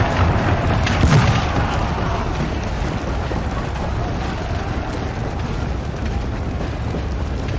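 Massed musket volleys from units firing in a large Napoleonic battle in the video game NTW, a dense continuous roar of distant gunfire with a heavier boom early on.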